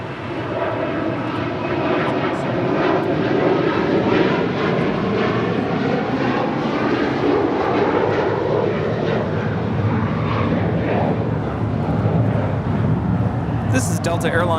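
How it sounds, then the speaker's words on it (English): A United Boeing 787-10 Dreamliner arriving from Newark, its broad engine roar holding steady and fairly close, with radio talk in the background. "this is United 399 coming in from Newark on a 787-10 Dreamliner"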